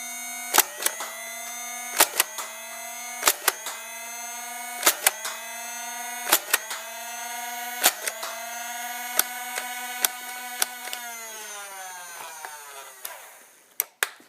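A Nerf Stryfe foam dart blaster fires in stock form, about a dozen sharp snapping shots spaced a second or so apart, each riding a steady whirring flywheel motor hum, close and alone.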